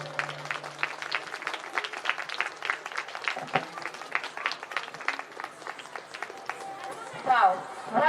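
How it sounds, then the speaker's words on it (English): Steady audience applause at a school annual concert, dense continuous clapping from a crowd filling the whole stretch, with a few louder bursts near the end. "Please do clap for them."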